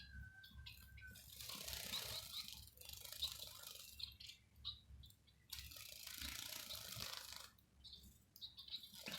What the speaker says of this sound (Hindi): ये अंदर कूद जाते हैं, कूद के फिर नहाते हैं